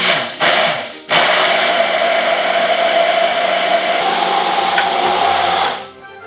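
A blender whirs loud and steady for about five seconds, blending harissa with lemon juice and oil into a sauce, starting with a short burst, then a brief pause before running continuously and winding down.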